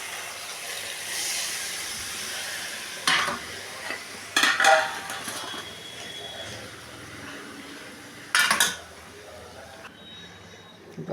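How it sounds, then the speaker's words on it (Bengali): Stirring soybean curry in a cooking pot after water is added: soft, low background hiss broken by a few sharp scraping and clinking bursts of a spoon against the pot, spaced several seconds apart. "এবার আমি জল অ্যাড করছি।"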